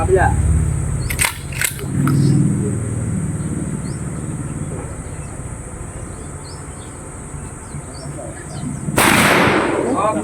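A few sharp gunshots crack, two close together early and one more later, over steady outdoor background noise at a firing range in Pinamalayan, Philippines.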